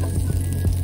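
Peppers sizzle in a pan on a semi truck, a brief close frying hiss with a couple of soft scraping thumps as they are broken up with a spatula.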